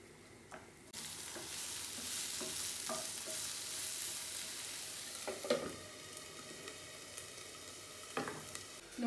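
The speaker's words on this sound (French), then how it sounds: "en attendant que ça cuit les oignons et puis les carottes" Onions and carrots fry in a pan with a steady, moderately loud sizzle that begins abruptly, with occasional stirring knocks and scrapes and no talking.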